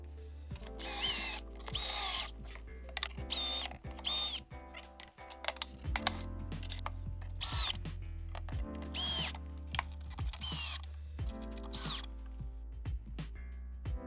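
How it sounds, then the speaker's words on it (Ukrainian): A power drill boring holes in a cabinet front for Blum drawer locks, about a dozen short loud whirring bursts separated by pauses and faint handling clicks. "Робимо отвори під обидва замки і прикручуємо їх до фасаду."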